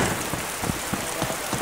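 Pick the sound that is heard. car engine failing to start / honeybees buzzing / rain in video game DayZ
rain in video game DayZ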